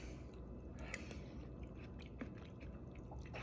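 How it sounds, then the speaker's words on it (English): Someone bites down on a clam from canned Campbell's Chunky clam and corn chowder, with faint, close, wet chewing and a few soft squishy crunches, no talking. "that was me actually biting down on a clam there"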